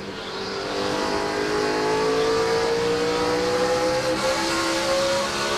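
NASCAR stock cars from the 2006 Chevy Rock & Roll 400 roar past in a tight pack, a loud sustained engine drone with rising pitch as the cars accelerate and sweep by, no voices.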